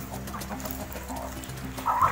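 Farm chickens being given feed bran cluck in a steady low chorus, with soft pecking and movement and a sharper call near the end.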